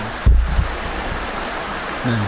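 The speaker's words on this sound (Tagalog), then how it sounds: "Naririnig nyo yung pagkaspas ng ilog" A rushing mountain river gives a loud, steady broadband roar, with brief low thumps and a short voice near the end.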